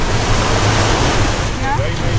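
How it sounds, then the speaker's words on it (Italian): Indian Ocean waves wash onto a beach in Mauritius with a loud, continuous roaring surf close by, mixed with gusting wind against the microphone. "Siamo sull'oceano indiano."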